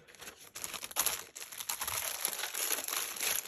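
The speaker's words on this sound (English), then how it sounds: "excuse the noise, sorry, but that paper is especially crunchy." Crunchy rag paper crinkles and rustles steadily for a few seconds, close and fairly loud, with sharp crackles throughout.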